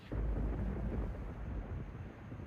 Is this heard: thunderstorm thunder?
yes